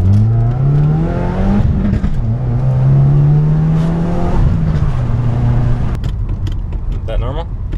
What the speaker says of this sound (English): we want to get the third gear grind now